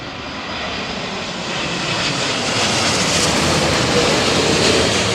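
A Boeing 787 Dreamliner on approach to Heathrow in high winds produces a broad, steady jet roar that swells gradually as it draws nearer, with wind noise blended in and no talking.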